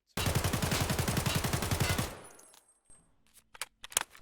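A gun firing at a shooting range in Escape from Tarkov, heard as a loud, rapid string of about twenty evenly spaced shots lasting two seconds, followed by quiet clicks and a few soft handling taps.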